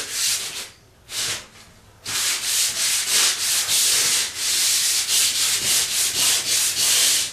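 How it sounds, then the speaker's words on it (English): Close, loud sanding strokes scrape back and forth overhead on a popcorn ceiling in a fast repeating rhythm, briefly pausing before resuming steady rasping passes. "I'm sanding right over my head, and it's going to get all on me."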